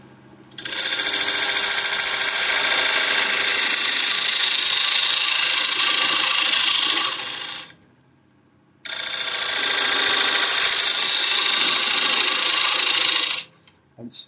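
An Ellsworth gouge cuts into spinning wood on a lathe, making a loud, harsh hiss that runs for several seconds, stops briefly, then resumes for a second long cut.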